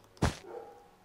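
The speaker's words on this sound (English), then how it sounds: "You're gonna hear him bark a lot, sorry." A pet dog indoors gives one short, sharp bark close by, with a brief tonal tail after it and no talk over it.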